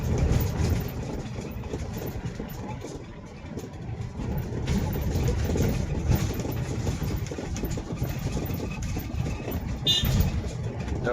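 A car engine runs steadily in fourth gear with no pedals pressed, a low continuous rumble with road noise, briefly dipping before rising as the car meets a slight incline.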